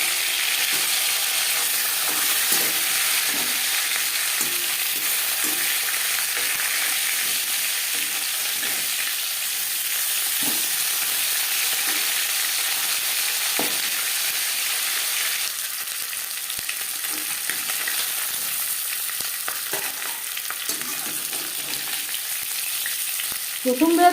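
Rupchanda fish pieces and fish head fry steadily in hot mustard oil, a dense continuous sizzle with small crackles and pops, turned over partway and rising into a louder hiss near the end.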